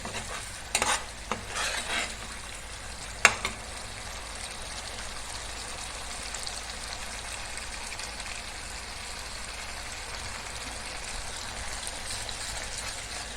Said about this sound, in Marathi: ह्यात आपण थोडी आलं लसणाची पेस्ट घालून जरा परतून घेऊया